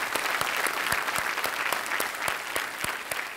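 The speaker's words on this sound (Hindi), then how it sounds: "तालियों के साथ इनका अभिनंदन" A studio audience claps to welcome a guest on a TV quiz show, dense continuous applause with a few sharp, prominent claps standing out at a loose, regular rhythm.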